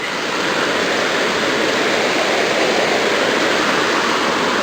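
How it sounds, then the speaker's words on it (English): A river rushes at Dry Creek along an old trail where a bridge washed out, a steady, loud broadband roar of flowing water, close and unbroken throughout with no voices. "So here comes the river."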